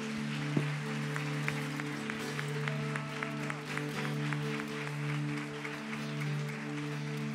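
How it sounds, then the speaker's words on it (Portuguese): Church congregation applauding at the close of an Easter service, steady sustained clapping from a crowd throughout, with organ or keyboard tones held underneath. "Vamos aplaudir Jesus mais uma vez."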